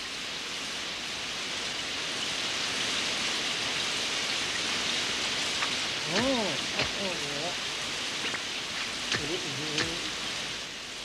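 Steady rain hisses across a scene in the animated series The Moomins as a constant wash, while a couple of brief voiced exclamations rise and fall over it.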